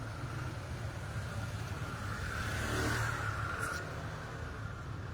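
Heavy traffic backed up at a stoplight on an evening street: a steady low rumble of idling and creeping car engines that swells briefly in the middle, with no voices.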